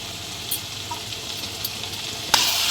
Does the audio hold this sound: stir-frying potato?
yes